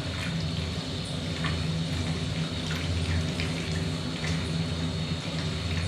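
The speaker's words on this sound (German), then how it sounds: "mache ich jetzt wieder kaltes Wasser rein" Cold water runs steadily into a steam wax melter used for beeswax, a constant close rushing fill with no talk over it.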